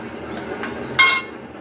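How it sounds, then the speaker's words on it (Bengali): Pieces of eggplant and potato drop into a pan for a fish chorchori, giving a few quick clinks followed by one sharper metallic knock, close by with no talking. "দিয়ে দিচ্ছি বেগুন, দিয়ে দিলাম আলু"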